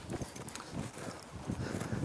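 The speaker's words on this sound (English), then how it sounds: "I'll lope this horse towards the rail" Horse hooves loping in an outdoor arena in the sun, a steady rolling clip-clop rhythm of three-beat footfalls, moderately close but fairly soft against a broad, noisy background.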